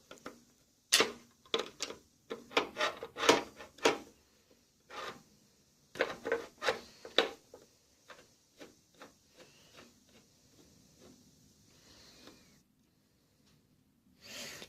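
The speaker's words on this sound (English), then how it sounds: "And now we need to basically unscrew these bits." A screwdriver works screws loose during a CPU cooler swap, giving a run of sharp, close clicks and scrapes in irregular bursts that thin out toward the end, with no talking.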